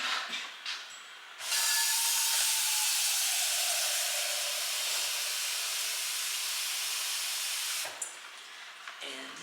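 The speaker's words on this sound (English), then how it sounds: "And this water that I'm boiling on the stove is for my tea." Water boils on a stove for tea, giving off a loud, steady steam-like hiss that starts suddenly, holds for about six seconds and then cuts off, with faint clinks before and after.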